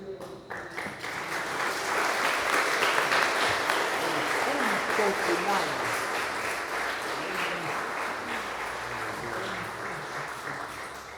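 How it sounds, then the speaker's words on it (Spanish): A church congregation in Puente de Ixtla, Morelos, applauds loudly for the apostle. Many hands clap in a sustained roar that swells and then slowly tapers off, with voices faintly present underneath. "Fuerte el aplauso grandemente para el apóstol."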